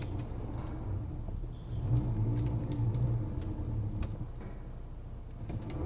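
A heavy truck engine in Euro Truck Simulator 2 pulling forwards in a yard while parking, a steady low diesel rumble that swells briefly as it accelerates, with faint ticking clicks on top.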